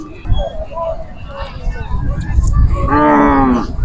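A cow moos loudly near the end, a long low call over a busy outdoor crowd with people talking at a large cattle fair in Vijayapura, Karnataka.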